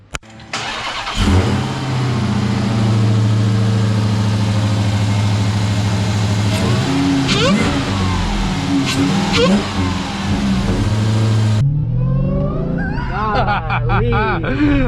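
A supercharged 2020 Dodge Charger Hellcat Widebody Daytona engine runs loudly and steadily while driving, whining as it rises and falls with revs, then drops off near the end as a voice speaks over lower engine noise.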